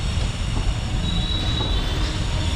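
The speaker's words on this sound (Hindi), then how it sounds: "आपको ले चलते हैं रेलवे स्टेशन के प्लेटफॉर्म पर।" A train runs along a platform at Varanasi railway station with loud, steady rumbling and high, sustained wheel squeal throughout. No one speaks.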